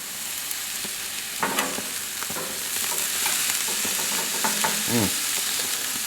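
Garlic and port wine marinated London broil steaks and whole button mushrooms sizzle on a grill, a constant hiss with scattered clinks and scrapes as the food is tossed and turned.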